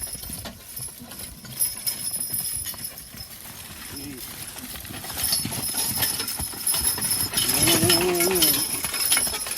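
Hooves of a pair of two-year-old draft horse colts hitched together clip-clop on the ground, an uneven run of thuds close by, with people talking over it and a shout near the end.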